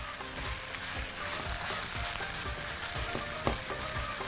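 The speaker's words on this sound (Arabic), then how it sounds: "خلاص لسان العصفور بدا يفلفل معانا كده ويتشوح كويس، وده اللي احنا عايزينه" Orzo (lisan al-asfour) sautéing in a hot pan gives a loud, dense, continuous sizzle close up, with faint soft scrapes of stirring and no voices.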